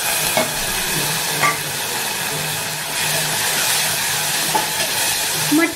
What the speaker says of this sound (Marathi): मटकी पण आपल्याला 2 ते 3 मिनिटं चांगली हलवून घ्यायची आहे तेलामध्ये